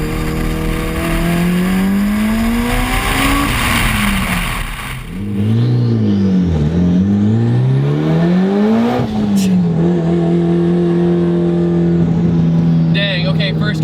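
A Mitsubishi Evo on plain summer tires accelerates hard in first gear, its engine note climbing in strong sweeping rises with a brief dip at a shift, loud and close from inside the car, with a voice speaking over it.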